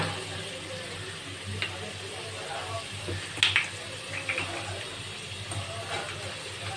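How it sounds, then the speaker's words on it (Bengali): Potatoes frying with whole garam masala spices and cumin in hot oil, a steady low sizzle running throughout with a few faint scraping clinks, under a talking voice. "ওই গরম তেলের মধ্যে আমি গোটা গোটা গরম মশলা আর গোটা জিরে ফোড়ন দিয়ে আলুগুলোকে দিয়ে দিয়েছি"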